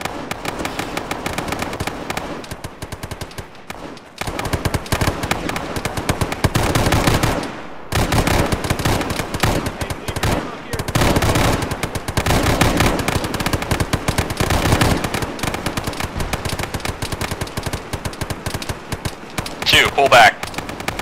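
Bursts of machine-gun fire in the Arma military game, long rattling volleys broken by brief pauses, loud and close, with radio-style squad voices talking over parts of the firing.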